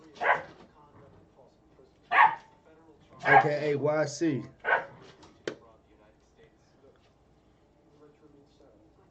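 A dog barks in a few short bursts, close by, mixed in with and partly overlapping a man's speech.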